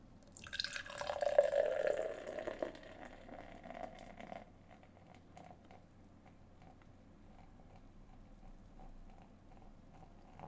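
Beer is slowly poured from a can into a glass, starting with a brief louder gush that eases into a quiet trickle and faint dripping and fizzing, with no talk.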